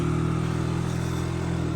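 A Yamaha Jog SA39 scooter imported from Japan runs steadily during a short test drive, its small engine giving a continuous buzzing drone with a rattly hum, close and constant throughout, no talking.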